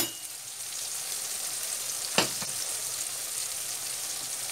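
Tomato puree is stirred into spinach and meatballs sizzling in a pan, giving a steady soft frying hiss with one brief scrape of the utensil midway.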